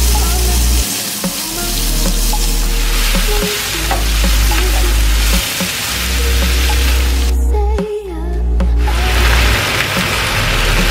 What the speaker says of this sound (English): I'm going to now fry up my leafy greens